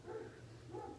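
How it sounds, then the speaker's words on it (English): Dogs bark and yip in the distance, two short bursts of barking against a low background hum. "I know you guys can probably hear the dogs barking."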